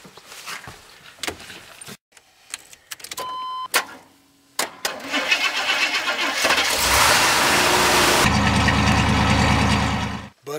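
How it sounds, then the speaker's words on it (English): A car engine is started with help from a Schumacher power booster: a few clicks and short bursts, then the engine cranks and catches into a loud, steady running roar that holds for several seconds before cutting off. "so I'm going to go ahead and start the engine."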